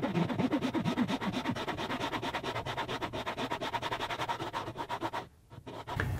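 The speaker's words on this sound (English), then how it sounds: "Now we'll load up the jig, lock the fretboard in place, and we can start cutting fret slots." A fine saw cuts fret slots into a bass guitar fretboard locked in a jig, a steady rapid back-and-forth rasping that runs continuously before a brief pause and resumes.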